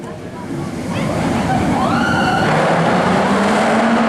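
A roller coaster at Phantasialand launches, heard as a loud, steadily building whoosh and rush with a rising mechanical whine, while a person talks over it.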